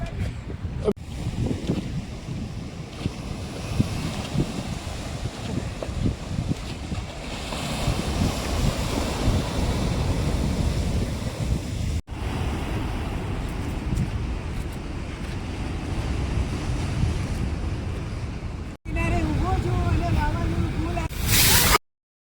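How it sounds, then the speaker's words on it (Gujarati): Heavy surf crashes and churns steadily against the shore at Mangrol port, mixed with strong wind buffeting the microphone, continuous and loud throughout. "કેટલા જોરથી મોજા આવી રહ્યા છે ને પાણી જો ઉછરી રહ્યું છે"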